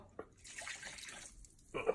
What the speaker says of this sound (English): Pour that red wine in there.